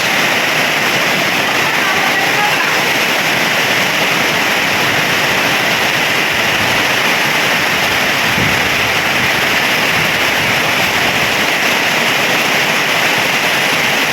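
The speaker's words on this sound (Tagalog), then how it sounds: "Biglang buhos." A sudden heavy downpour of rain pours outside a house's kitchen extension in windy weather, a loud, dense, steady hiss with a faint voice underneath.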